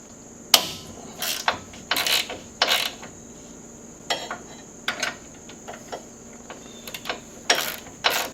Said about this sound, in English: Next, I want to remove these four hub retaining bolts.